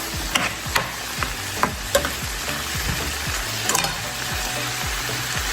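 Onion sautéing in a soup pot, a steady sizzle with repeated scraping stirs of a spoon at an irregular rhythm, close and clear with no talking.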